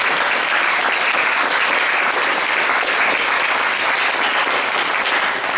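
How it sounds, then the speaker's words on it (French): Steady, full applause from a lecture audience closing a talk on space and time in communist Czechoslovakia, loud and continuous from start to finish with no voices. "on va peut-être même mettre un terme à cette séance en applaudissant Roman Krakowski pour le très bel exposé."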